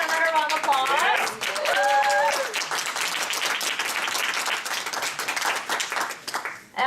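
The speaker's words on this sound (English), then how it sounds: "we give J-Rod another round of applause" A room of people applauding a speaker at a business talk, with loud, dense clapping and a few vocal whoops and cheers at the start, continuing steadily before cutting off.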